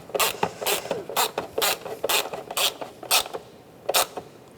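A ratchet tightens the valve cover bolts on a 2007-2013 Mini Cooper, clicking in quick uneven bursts with about nine sharp strokes, close up and alone.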